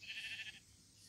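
A Minecraft sheep lets out a short, bright bleat as it is killed, loud for about half a second before cutting off into quiet background.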